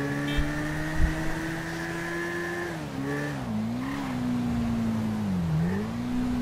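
A Suzuki V-Strom motorcycle in GTA V revs with a tonal engine whine that rises, dips and swings in pitch as it rides, loud and steady with a couple of thumps early on.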